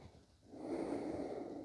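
One slow, audible breath during a yoga stretch, a faint airy rush that swells and holds through most of the moment in a quiet room.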